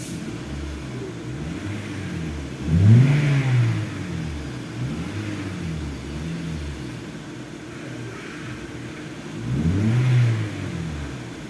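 Engine of a 2009 Toyota Corolla with unstable, fluctuating RPM, heard up close as a steady running drone that surges up and drops back down twice in uneven rises.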